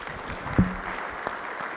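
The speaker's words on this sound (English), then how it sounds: "Peter, a round of applause." Brief applause from a small audience after a bridge waterproofing technology demonstration, a steady patter of clapping that stays moderate and even, with one sharper thump partway through.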